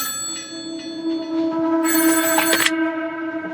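A telephone ringing indoors: a sustained electronic tone swells into a loud, bright trilling burst of ringing, then settles back to the steady tone, with no one speaking.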